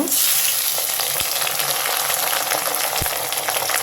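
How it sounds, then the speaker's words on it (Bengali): Prawns frying in a pan of onion spice paste give a loud, close, continuous sizzle with fine crackle, broken by two soft knocks of a utensil against the pan. "চিংড়ি মাছগুলো একটু ভালো করে ভেজে নেব"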